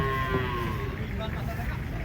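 An old horned cow moos while being unloaded from a truck, one long, loud, low moo over steady outdoor engine rumble and crowd noise.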